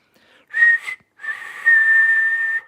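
A person whistling two clear tones, a short note and then a longer sustained one after a brief pause, close and alone without talk.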